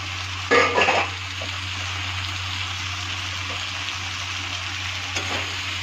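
Fresh spinach dropped into a hot pan with soybean curry ingredients gives a brief loud burst of sizzle. A steady hiss of frying follows over a low hum, then a small second flare near the end.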